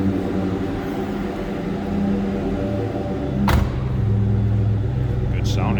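A 2001 Ford Mustang SVT Cobra convertible engine idles with a steady low rumble, loud and close, with a brief sharp noise midway.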